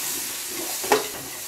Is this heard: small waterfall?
no